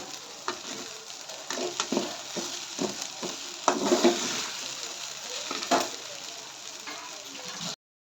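Vermicelli upma is stir-fried in a pan, with a steady close sizzle and irregular scraping stirs that grow busier midway. The sizzle cuts off abruptly at the end, and no one speaks.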